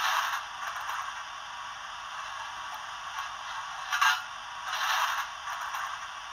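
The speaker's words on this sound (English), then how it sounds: "coal shoveling." Coal shoveling sound effect from a Hornby Flying Scotsman 60103 TTS Sound model locomotive in BR green livery: steady scraping, rustling hiss with repeated swells of louder scrapes, close and continuous with no talking.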